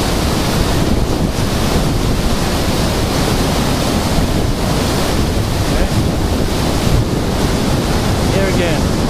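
Rushing river water near Nevada Fall in Yosemite roars as a loud, constant broadband wash, buffeted by wind against the microphone.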